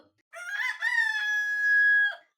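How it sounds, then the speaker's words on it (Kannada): A rooster crows once in the morning, a clear, loud, rising-then-held cock-a-doodle-doo heard close and alone against silence. "ಅವನ ಕೋಳಿ ಬೆಳಿಗ್ಗೆ ಎದ್ದು ಕೊಕ್ಕೋ ಕೊಕ್ಕೋ ಅಂತ ಎಲ್ಲರನ್ನ ಎಬ್ಸ್ತು"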